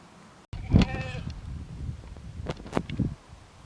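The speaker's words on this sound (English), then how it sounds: "I seem to be upsetting the sheep by coming here" Sheep bleat on an overgrown rural footpath: a sharp, close bleat near the start, then a few shorter, fainter calls later, over wind and rustling.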